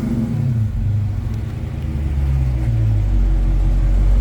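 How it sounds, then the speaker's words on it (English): 2018 Dodge Charger Scat Pack with factory exhaust, revved from idle: a deep rumble rises and falls in pitch, then settles into a fuller, louder drone, close by with no talk. "Give it a little rev for you."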